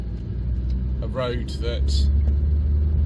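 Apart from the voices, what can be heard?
1997 Renault Mégane Coupé 1.6e exhaust note on bumpy road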